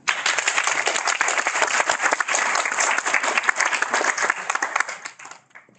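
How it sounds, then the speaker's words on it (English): Conference audience gives a round of applause for a speaker at a fintech event, a dense, loud crowd clapping that holds steady for about five seconds and then fades quickly into quiet. "Let's give a round of applause for Martin."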